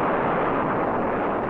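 A Saturn rocket engine fires in a sustained, controlled explosion, a dense and even roar of broadband noise held at constant loudness throughout.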